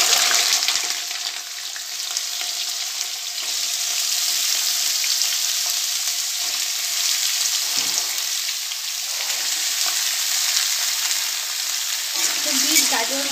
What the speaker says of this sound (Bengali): দিয়ে এখানে একটু লাল লাল করে ভেজে নেব